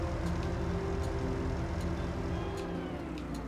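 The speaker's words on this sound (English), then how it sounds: "Engine sounds really good." Modded tractor engine in Farming Simulator, a steady low droning rumble with a constant tonal hum, running evenly at moderate volume with faint ticking overtones and no talk over it.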